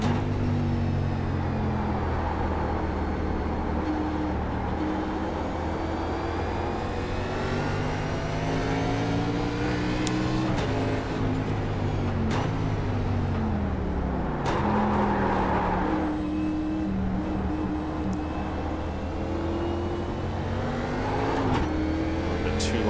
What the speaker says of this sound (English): With that downshift into first gear there.